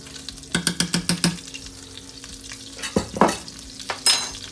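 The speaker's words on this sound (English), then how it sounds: "And then you'll whisk this together because now your butter is melted." A whisk scrapes rapidly through all-purpose flour and melted butter, working them into a paste: a quick run of about six rhythmic strokes, then scattered louder scrapes and taps against the pan, fairly close.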